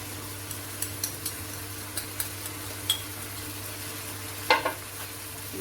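Turmeric and chili powder get stirred into chicken korma frying in a pan: a steady low sizzle broken by light spoon taps and scrapes, with a louder scrape near the end.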